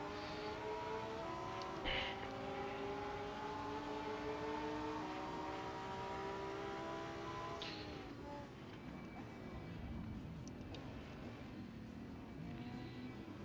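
The engine of a GT3 race car in Assetto Corsa on the Daytona Road Course drones steadily at high revs, then drops in pitch partway through as the clutch is hit, with a continuous mechanical whine throughout.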